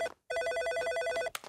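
A cartoon telephone rings with a bright, trilling electronic bell, a short close burst of about a second, ended by a brief clatter as it is picked up.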